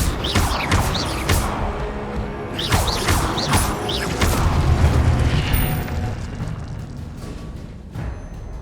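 Casting the Incendio fire spell in the video game Hogwarts Legacy sets off loud bursts and crashing impacts with whooshing flares, clustered early, then fading into lighter rumbles and scattered hits.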